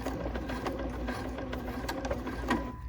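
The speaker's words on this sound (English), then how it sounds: "I'm going to stitch forward, get right on the end of that intersection, and then go backwards" Bernina sewing machine stitching forward and then backward while making a centered zipper, a steady, rapid mechanical clatter close by with no talk.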